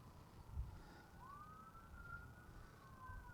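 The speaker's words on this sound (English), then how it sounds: "I hear the sirens" A siren wails faintly in the distance on a snowy lakeshore in Silver Creek Metro Park, Norton, Ohio, its pitch sliding slowly up and down over a low rumble of wind or traffic.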